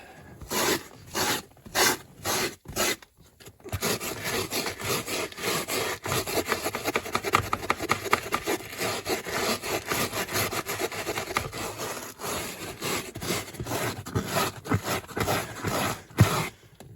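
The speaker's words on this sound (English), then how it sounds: "So we're gonna try and scrub this." A surface is scrubbed with Oxi-Clean foam cleaner, beginning with a few separate rough strokes and then settling into fast, steady back-and-forth brushing that stays close and moderately loud.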